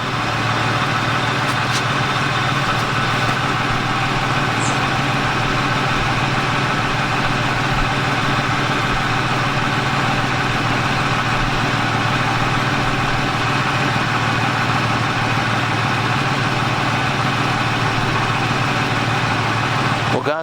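An Isuzu Trooper with a no-oil-pressure fault idles steadily for a long stretch, a constant low mechanical hum close by with no change in pace.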